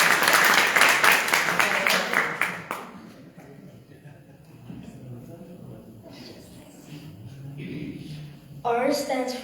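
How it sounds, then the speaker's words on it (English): Audience applause at a gathering starts as a dense, loud wash of clapping for the first few seconds, then dies down into quieter room sounds before a voice speaks. "Shri Ram, let's give him a round of applause too."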